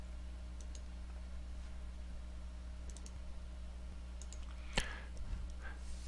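Computer mouse clicks while working in Visual C++, a few light, sharp clicks over a steady electrical hum, with one more distinct click near the end, close and quiet, no talk.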